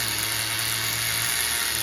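HPI MT2 RC truck's small nitro engine idling on castor-blend fuel, running slightly lean at low revs, a steady buzzing drone with a high whine, close and loud, no voices.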